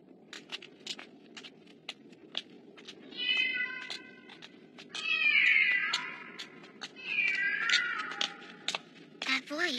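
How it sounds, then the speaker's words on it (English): A cat meows again and again in drawn-out, wavering calls that swell and fade over faint footstep-like pattering and light ticking sounds. "That voice. Sounds like a cat."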